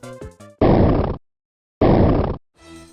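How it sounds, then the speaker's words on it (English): Two loud, harsh crumbling bursts, each about half a second, separated by silence, framed by brief bits of game music: an unused boulder-destruction sound effect from LEGO Racers. "This would have played when the boulder got destroyed."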